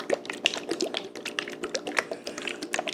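Runny sriracha-style guajillo and red jalapeno hot sauce pours from a bottle, making quick irregular watery splashes and drips, close and fairly quiet, with no talk.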